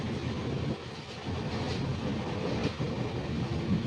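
Steady, loud rumble of the 22504 Vivek Express running along the rails, heard from inside a sleeper coach with a continuous wheel-and-track roar and faint rhythmic clatter throughout.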